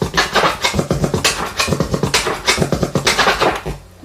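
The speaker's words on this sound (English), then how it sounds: "that's a regular delete scratch" Rapid turntable delete scratches cut over a punchy kick and snare pattern, with quick rubbing bursts chopping the drum hits in a loud, busy rhythm.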